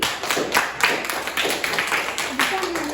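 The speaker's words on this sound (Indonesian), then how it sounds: "Tepuk tangan sekali lagi." A class of students claps hands together during a classroom lesson, giving a short run of uneven, moderately loud claps with a voice speaking over them.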